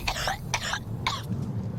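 Two or three harsh, close coughs come in quick succession from a person who is feeling unwell, with a low background hum beneath them.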